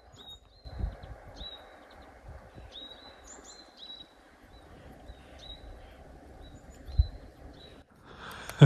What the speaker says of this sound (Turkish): Ne güzel kuş sesi geliyor öyle bir tane.